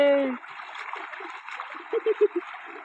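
A voice speaks briefly, then soft water splashes and trickles nearby as people bathe in cold river water, with a few quick sloshing bursts toward the end.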